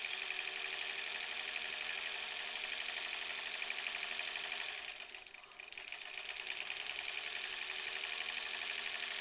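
A sewing machine stitching improv-pieced curved quilt blocks, running in a fast even whir at close range, briefly slowing mid-run before picking back up, with no talking.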